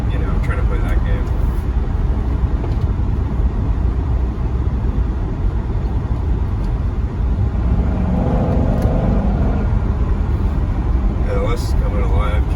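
A manual C6 Corvette with an LS2 V8 accelerates, a loud, low rumbling roar that holds steady throughout, heard from inside the car while someone talks over it.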